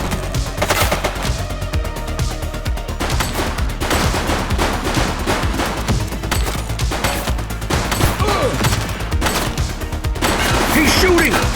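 Sustained, dense gunfire rattles through a shootout in The Precinct video game, with loud overlapping bursts and machine-gun volleys running continuously under game music and effects.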